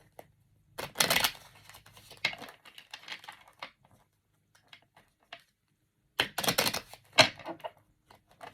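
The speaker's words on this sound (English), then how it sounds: "All right, last shuffle." Tarot cards being shuffled by hand, with two bursts of riffling and snapping separated by scattered lighter taps and shuffles, close and fairly quiet with no talk.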